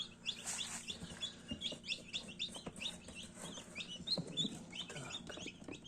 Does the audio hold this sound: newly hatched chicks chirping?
yes